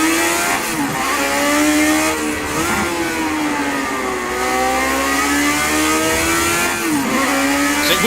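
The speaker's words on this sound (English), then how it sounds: "There's a faster class car approaching." A faster-class race car in Project Cars 2 roars loud and close, its engine rising and dipping through repeated revs and gear changes for the whole stretch.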